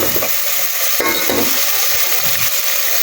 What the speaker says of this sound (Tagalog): tayo nagigisa na